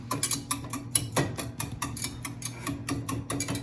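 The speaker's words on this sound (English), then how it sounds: "First what I'm doing is I'm mashing it down with the whisk." A whisk mashes hot cooked potatoes in a pot, making quick repeated tapping and scraping strokes at a steady rhythm, moderately close and with no talk.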